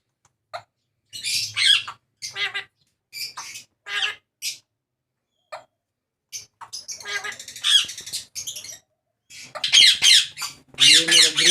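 Grey parrots in a breeding setup give repeated harsh, raspy squawks in short separate bursts, loud and close, growing denser toward the end with no other sounds between calls.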